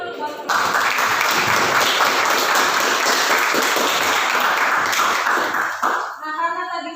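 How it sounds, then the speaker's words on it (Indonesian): Classroom applause during a teacher-training lesson in Indonesia, a dense sustained wash of many hands clapping at once for about five seconds before cutting off, with a voice beginning to talk at the very end. "Tepuk tangan dulu buat"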